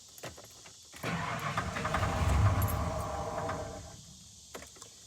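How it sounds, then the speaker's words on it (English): A 1994 Ford F-150 with its fuel pump relay pulled cranks and starts, then runs for about three seconds with a rough, rising and falling engine rumble before dying back to near silence, with faint clicks before and after. "We are going to start the vehicle."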